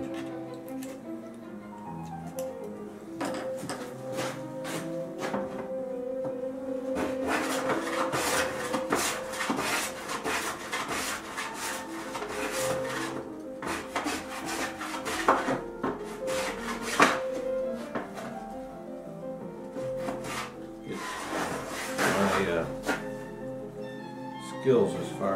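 Hollow and round wooden molding planes are pushed along a wooden board in repeated rasping strokes with soft scraping between them, close by and fairly quiet, while someone talks intermittently.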